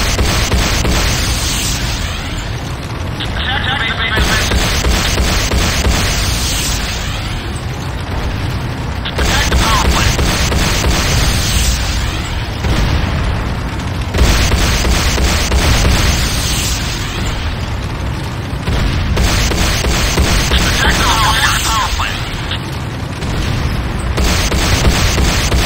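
Repeated explosions tear through a Nod power plant under attack in the game Renegade, heavy booming blasts and bursts following one another over a constant loud din of battle mechanisms, with no quiet gaps.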